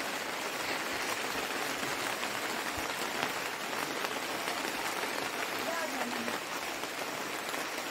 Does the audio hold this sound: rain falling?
yes